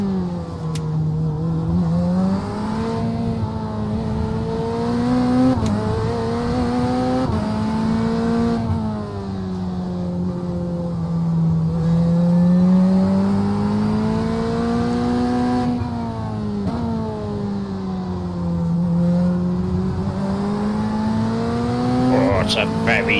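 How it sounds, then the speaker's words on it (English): A Mustang GT3 racing car engine in the iRacing game drones continuously at Fuji, its pitch rising and falling through gear shifts, with a voice speaking over it. "It's a very noisy Mustang"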